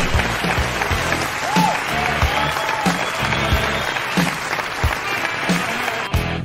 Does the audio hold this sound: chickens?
no